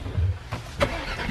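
A 2020 Dodge Durango SRT V8 SUV engine cranks and catches, settling into a low rumbling idle close by.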